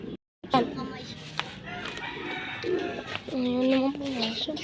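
Pigeons coo in repeated low, warbling phrases close by, with other bird calls scattered through and a brief gap of silence near the start.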